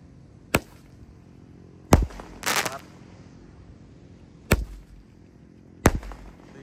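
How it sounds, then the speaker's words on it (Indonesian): A five-shot firecracker cake fires on a pre-Ramadan morning, five sharp, loud booming bangs spaced a second or more apart, one followed by a brief crackling burst, with no talking. "5 shot berhasil menyala."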